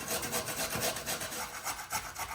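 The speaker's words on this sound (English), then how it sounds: "we're gonna use the coarse grater of a box grater, and we're gonna grate these like we're making hash browns" Russet potatoes rubbed hard down a coarse box grater for hash browns, making rhythmic rasping strokes close by, loud and regular, with no voices.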